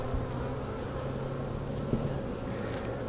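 Honeybees buzzing around an open beehive during a hive body rotation, a dense steady drone of many insects close by with a single brief knock partway through and no talking.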